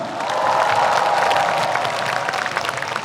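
Crowd applause and cheering from a concert audience at an outdoor music festival celebration stage in Daegu, a broad steady roar of clapping swelling quickly and holding loud throughout.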